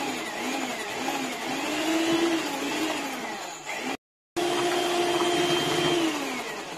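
An electric mixer whirs steadily as it beats coconut cream with grated coconut for a grandmother-style cake, its pitch rising and falling as the load shifts, with a brief cutout before the loud motor drone resumes.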